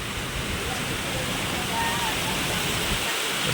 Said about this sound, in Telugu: పెద్ద వాన అండి టైం అయితే తొమ్మిది బాగుంది ఖచ్చితంగా భారీ వర్షం అనమాట స్టార్ట్ అయింది